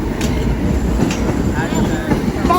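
An R46 R subway train pulls out of Sheepshead Bay with a loud, steady rumble of wheels and a rhythmic clatter, with faint squeals over it. Someone talks briefly over the noise.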